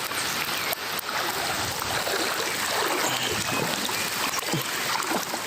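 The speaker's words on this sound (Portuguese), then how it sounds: "Quem não tem carro nem moto chega em casa abrindo caminho na enchente." People wading through street floodwater on their way home, a continuous close splashing and churning of water with steady noisy swishes throughout.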